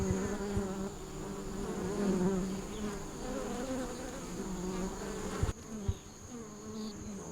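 Honey bees swarm and buzz around an opened hive in Guadeloupe, a dense, continuous hum close by with a steady drone, briefly dipping and thinning toward the end.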